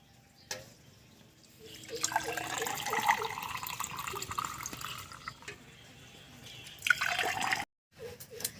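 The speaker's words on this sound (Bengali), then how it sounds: "আমার শরবত রেডি হয়ে গেছে। এবার আমি ছেঁকে নেব।" Homemade fruit sherbet poured through a strainer, a steady liquid trickle and splash that swells midway and again near the end, close and moderately loud, with a brief pause before the flow resumes.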